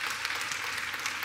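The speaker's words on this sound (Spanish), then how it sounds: "Yo quiero que le demos un aplauso al Señor por el ministerio de comunicación" A church congregation applauds in a steady, moderately loud burst of clapping heard from a distance in a large room.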